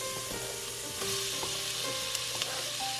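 Chopped onion sizzles and crackles in hot oil in a pan while cooking a smoky two-bean chili, a steady close frying hiss with small pops throughout and no talking.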